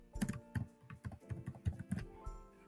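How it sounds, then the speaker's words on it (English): Computer keyboard typing while entering a short heading in Canva, a quick run of close, crisp key taps in uneven bursts. "I'm going to type my text"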